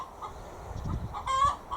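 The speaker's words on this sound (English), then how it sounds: "the chicken's just laid an egg" A hen on a garden plot clucks just after laying an egg: a few short, close clucks building to a louder, rising squawk, then one more cluck at the end over faint background noise.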